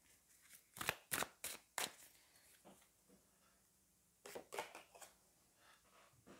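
Tarot cards being drawn and handled, quiet sharp flicks and snaps in two quick clusters separated by a near-silent pause.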